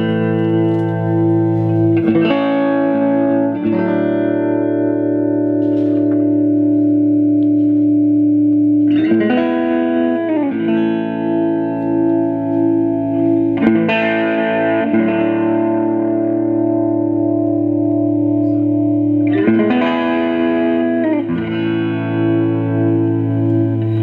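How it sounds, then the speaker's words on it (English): A Danelectro Deluxe DC1 electric guitar plays slow blues chords in A with a distorted, reverberant tone, each strummed chord ringing out and sustaining before the next, loud and alone. "This is just like a little chords in A, kind of a blues, but you'll just hear the tone of the guitar."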